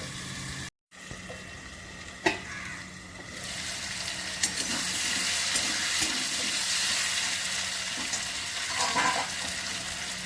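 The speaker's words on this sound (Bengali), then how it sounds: "আলুটা ভাজা হয়ে গেছে" Potatoes frying in oil in a pan for aloo posto, a steady close sizzle that starts after a brief dropout and stays broad and constant, with a few faint clinks of a utensil and no voices.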